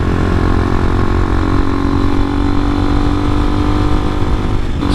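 A 250cc enduro motorcycle engine under way while riding, a loud steady droning hum at high revs, close and continuous throughout without any talk.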